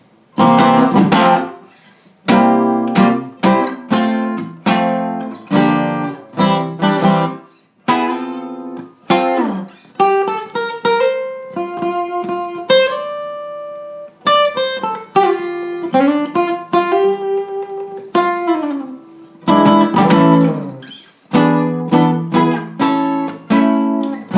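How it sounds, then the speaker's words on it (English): A solo guitar plays the instrumental section of a song with strummed chords and melodic runs, loud and close, with brief pauses between phrases and no voices. "After the fourth verse, there's an instrumental you can throw in."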